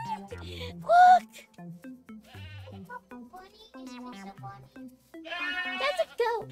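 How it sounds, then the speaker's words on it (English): A goat bleats in the video game, with several short nasal bleats mixed among lively voices talking over them. "That's a goat!"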